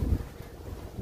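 Wind buffets the microphone in low, rumbling gusts on St. Kilda in the Outer Hebrides of Scotland, a steady blustery roar with no voices.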